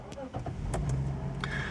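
A 2009 Lexus IS250 SE-L automatic starts at the press of its keyless start-stop button: a few faint clicks, then the engine catches and settles into a low steady idle, heard close from inside the car.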